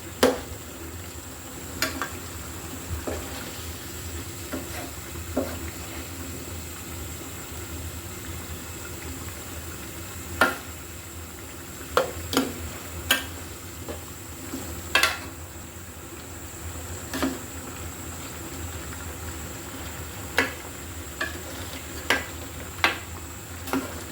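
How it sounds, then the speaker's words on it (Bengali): Chicken korma with nuts and added milk being stirred in a pan, with a low simmering hiss underneath and scattered spoon scrapes and knocks against the pan, some in quick clusters, and no talk. "কিছুক্ষণ পরপরই কিন্তু ভালো করে নেড়ে দিতে হবে, নাহলে নিচের তলায় কিন্তু লেগে যেতে পারে।"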